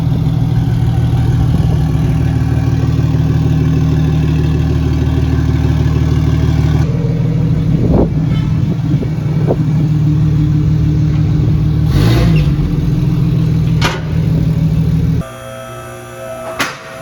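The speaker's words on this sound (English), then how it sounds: "battery's in, and we're gonna see if now it starts." A 2JZ-swapped Subaru BRZ with an HKS exhaust runs close and loud with a steady, rumbling idle and slight rises in revs, then drops away sharply near the end.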